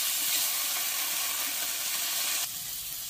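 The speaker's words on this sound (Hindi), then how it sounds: "ऑयल हमारा गरम हो गया, इसमें सारे मशरूम डाल देंगे, फ्राई कर लेंगे मशरूम को अच्छे से।" Mushrooms frying in hot oil in a kadai give a steady, dense sizzle that holds loud and even, easing slightly toward the end, with no voices.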